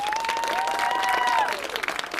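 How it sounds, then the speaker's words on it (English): Studio audience applause for actor Hugh Dancy at a Hannibal interview taping, a burst of many hands clapping with whistles and cheers, loud and close, thinning out toward the end. "Can I get a round of applause for Hugh Dancy?"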